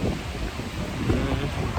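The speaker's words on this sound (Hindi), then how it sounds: "बहुत ही बुरी तरीके से हवा चल रहा है।" Strong wind with rain roars and buffets the microphone outdoors in a continuous low rumble, with no other sounds standing out.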